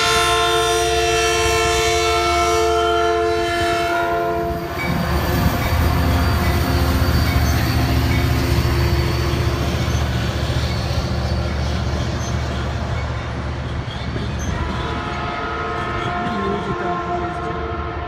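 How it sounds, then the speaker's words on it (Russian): An electric commuter train passes nearby, its horn sounding in the first seconds before a long, loud roar of wagons and wheels rolling past, with squeals and rumble slowly fading toward the end. "Ездит у нас тут поезд."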